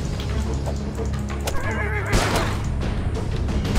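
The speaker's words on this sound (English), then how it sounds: "Certainly sounded like a horse." A horse in the video game Starbound gives a fairly loud, wavering whinny about midway through, set among busy in-game sound effects and background noise.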